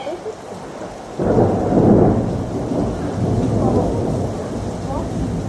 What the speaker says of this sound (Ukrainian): Грім!